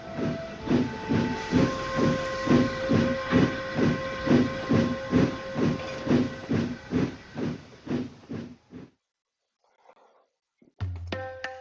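A steam engine in an audio drama chuffs in a steady, rhythmic series of puffs with whistle tones layered over them, then falls quiet before a final short, sharp whistle toot rings out near the end.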